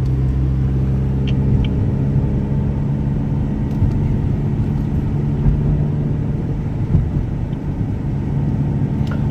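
A car engine pulls steadily up a big hill after shifting out of second gear near 3,000 RPM, a loud continuous low rumble with no break.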